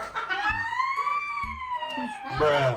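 An ambulance siren wails, rising and falling in a long sweep, fairly loud, with a few brief thumps and a short voice near the end.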